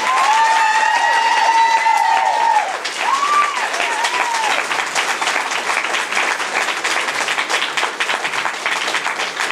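Audience applause at a community meeting about relocating to Washington Street: sustained clapping from a room full of people, loud and even, with some overlapping voices and a brief whistle-like tone early on.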